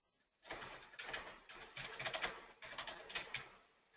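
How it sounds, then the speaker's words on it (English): Typing on a computer keyboard during an online meeting, quick rhythmic clusters of soft key clicks heard alone at close range. "I can still hear somebody's typing,"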